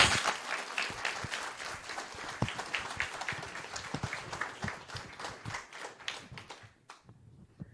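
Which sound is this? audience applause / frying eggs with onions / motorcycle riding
audience applause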